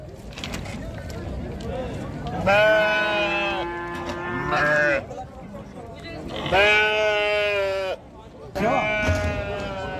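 Sheep and rams bleat loudly and repeatedly at a busy livestock market before Eid al-Adha, in several long wavering calls over a steady crowd murmur, with someone speaking nearby.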